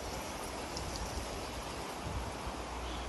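Steady broadband rush of a river flowing past a tent pitched on the riverbank in Bosnia, near the Martin Brod waterfalls; continuous, close and even throughout, with no voices.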